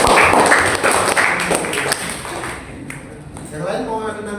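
Classroom audience clapping in applause during a lesson, a dense burst of hand claps that fades out partway through while voices continue.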